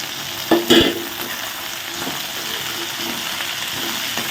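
Okra frying in a pan as chopped small shallots go in, a near, even sizzle with a couple of louder clatters and splashes early on, then a steady frying hiss with light stirring.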